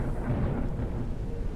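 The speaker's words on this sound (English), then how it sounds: "the thunder effects in this game are awesome" A deep, rolling rumble of thunder from the video game Forever Skies, sustained and heavy at low pitch, with no speech over it.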